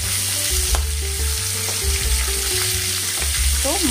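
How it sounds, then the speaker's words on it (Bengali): Fish fries in a pan with a loud, steady, close sizzle, with low tonal hum layered underneath and no speech. "আমি মাছটা ভাজতে দিয়ে দিয়েছি"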